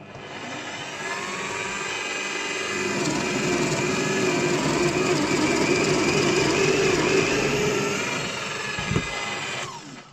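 An HSS cobalt wood drill bit bores into softwood, giving a steady, close whirring grind that builds up and holds for about seven seconds before stopping abruptly.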